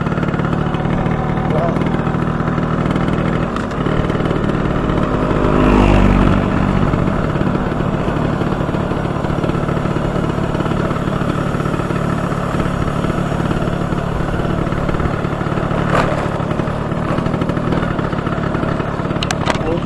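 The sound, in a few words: motorcycle riding downhill from Patong to Kalim beach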